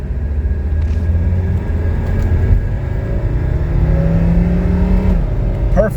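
A 1985 Mercedes 300TD pulling hard up a highway on-ramp from a standstill toward 60, its engine note droning steadily and climbing in pitch, with a gear change partway through, heard from inside the cabin.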